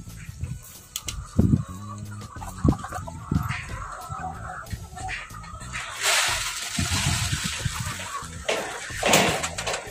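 Chickens on a rural farm plot cluck in short, irregular bursts close by, with rustling and wind noise swelling midway and a voice speaking intermittently throughout.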